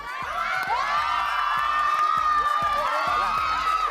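A studio audience at a comedy game show shouts and cheers continuously, loud and close, a dense crowd roar with rhythmic beats underneath throughout.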